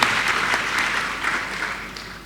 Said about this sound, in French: acclamez-les parce que c'est leur tour de bénéficier du service